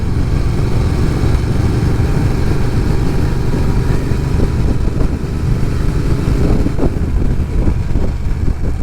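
A motorcycle of about 100 horsepower runs steadily while being ridden, its engine a continuous loud rumble with wind noise and no pauses, during winter riding in Florida.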